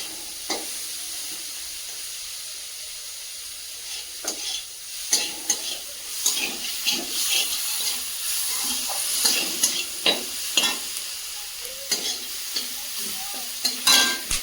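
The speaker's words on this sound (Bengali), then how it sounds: "দিয়ে চিংড়ি মাছটা ভেজে নিয়ে সবজিগুলো দিয়ে দেবো" Prawns and winter vegetables such as spinach, potato and beans frying in a pan, with a steady high sizzle broken by frequent scraping stirs and clinks that grow busier toward the end, up close and without speech.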